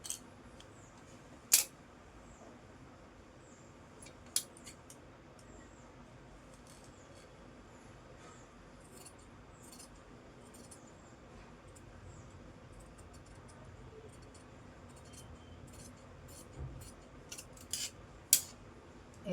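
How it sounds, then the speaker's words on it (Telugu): Scissors cut through blouse fabric in a quiet room, making sparse, sharp snips and clicks spread irregularly, with a small cluster near the end and no voices. "ఇక్కడ ఇంత కట్ చేసేసుకోండి."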